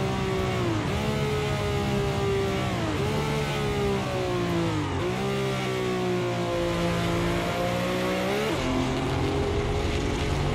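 A Ferrari's engine in Assetto Corsa drones loud and steady in high gear near top speed, its pitch sliding down and climbing again through several shifts and throttle changes, with a slightly ragged, strained edge and no talking.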